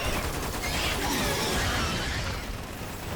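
Dense, continuous gunfire from the Xbox 360 game Lost Planet 2, a sustained automatic barrage with no pauses, loud and close.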